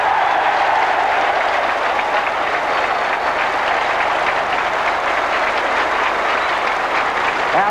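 A cricket crowd at a test match applauds loudly and steadily as New Zealand's Turner reaches his second century, a dense wash of clapping from a large stand that lasts throughout with no breaks and no talking.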